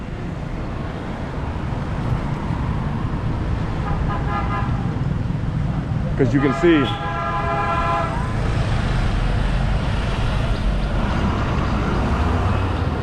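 Busy street traffic in Da Nang, Vietnam, with a steady roar of engines and a few sharp horn toots in the middle, while a person speaks briefly over the din.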